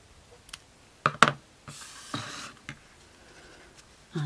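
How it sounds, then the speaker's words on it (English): Scissors trim the cotton thread on a freshly sewn scrap-fabric yo-yo: a few sharp, close snips and clicks bunched together, then quiet handling, with no talking. "And then just trim your cotton."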